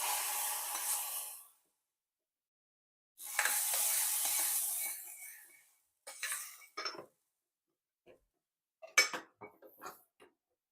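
Curry leaves dropped into hot oil while tempering kadhi give a loud burst of sizzling, then a second longer sizzle, followed by scattered clinks of a spoon against the pan, with no talking.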